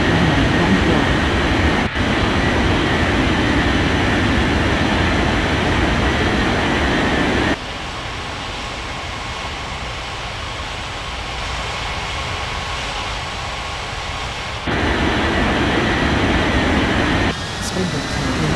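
A cargo plane in an air traffic control game roars steadily through its takeoff run. The engine noise is loud and continuous, with abrupt level shifts partway through.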